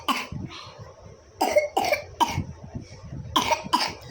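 A child coughs in short, sharp bursts, first a cluster of three, then two more after a brief pause, fairly close and with no talking over them.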